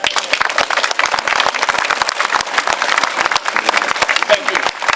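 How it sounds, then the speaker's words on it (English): A rally crowd at the Oregon State Capitol applauds a speaker: dense, loud clapping with many sharp individual claps throughout, with the crowd's noise mixed in. "Let's give this man a round of applause."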